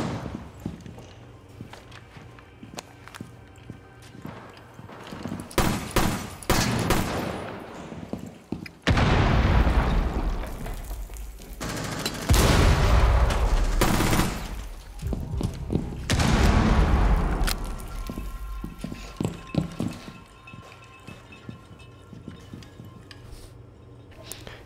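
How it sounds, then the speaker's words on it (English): Gunfire and explosive booms in Rainbow Six Siege, with loud bursts of shots and heavy impacts coming in clusters, separated by quieter stretches of footsteps and movement. "Shooting the stuff off the wall around me."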